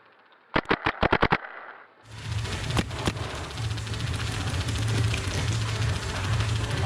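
Paintball markers fire in a scenario paintball game: a quick burst of five or six sharp pops up close, then a rushing outdoor background with a couple of faint distant shots.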